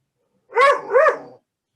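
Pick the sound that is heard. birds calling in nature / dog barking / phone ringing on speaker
dog barking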